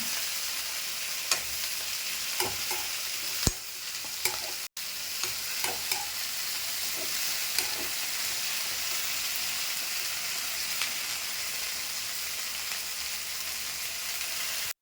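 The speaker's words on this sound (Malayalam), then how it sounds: "വതകി, ഉള്ളിയും പച്ചമുളകും വെളുത്തുള്ളിയും വതകി." Onion, green chili and garlic sautéing in a hot pan: a steady, soft sizzle runs throughout, broken by occasional clinks and scrapes of stirring, with no talk.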